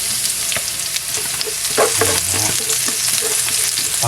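Garlic sautéing and being stirred in a pan, with a continuous close sizzle and frying crackle broken by repeated scraping stirs, and no talk.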